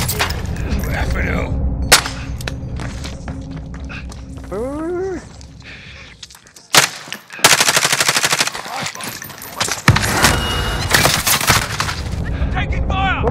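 Automatic gunfire and scattered single shots erupt in a Call of Duty Modern Warfare multiplayer match, with long, loud sustained bursts broken by quieter gaps, a few brief tonal game cues, and players' voices heard between bursts.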